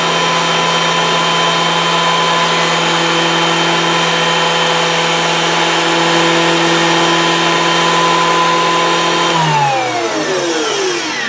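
A Wen 6-inch spiral cut jointer runs with a loud, steady motor whine and hum close by, then winds down near the end as it is switched off and the pitch falls away.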